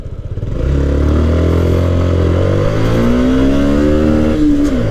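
Motorcycle accelerating hard in a 0 to 100 run, loud and close, its engine note climbing through several gear changes with rising, sweeping revs.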